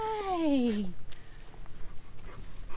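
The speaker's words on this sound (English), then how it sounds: "Oh, yes, the puppies." Puppies on a farm whimper in a high, sliding whine that falls in pitch over about a second, close and clear, followed by quieter rustling and soft noises.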